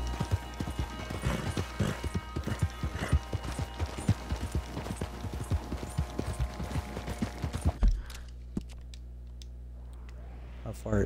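Rhythmic hoofbeats of a horse galloping in the Red Dead Redemption 2 video game, loud and steady for about eight seconds over a low rumble, then stopping abruptly, with a quieter ambient tail.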